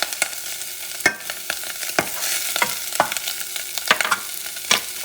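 Leftover turkey and green onions fry in a pan with a steady broadband sizzle, broken by repeated sharp scraping clicks of a utensil stirring, close and fairly loud throughout with no talking.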